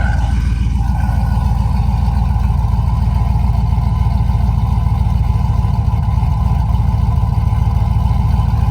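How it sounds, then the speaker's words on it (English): A rebuilt Chevrolet Tahoe V8 engine idles steadily and loudly up close, a continuous low rumble with a faint rev blip near the start, no talking over it. "The idle's coming down now."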